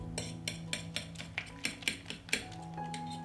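A utensil stirs grated hard cheese and spices into eggs in a bowl, clinking against the sides in a quick, steady rhythm of about a dozen close, bright taps.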